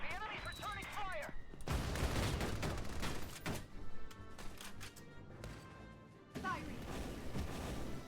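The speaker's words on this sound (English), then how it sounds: "The enemy's returning fire." Enemy gunfire in the strategy shooter Valkyria Chronicles 4, a series of sharp volleys and cracks with crashing impacts, interrupted by brief quieter gaps and bursts of chirpy game effects.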